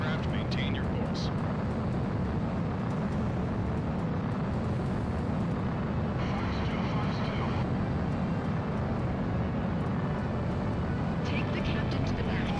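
Aircraft engines in flight in Ace Combat 04: Shattered Skies, a constant loud low roar lasting throughout, with faint radio-like chatter and beeps layered on top.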